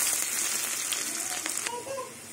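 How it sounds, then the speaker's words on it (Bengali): Chopped onion with black cumin frying in hot oil in a pan, a close, steady crackling sizzle with small pops and light scraping throughout, no voices. "কুচনো পেঁয়াজটা দিয়ে দেবো, পেঁয়াজটা ভেজে নেব।"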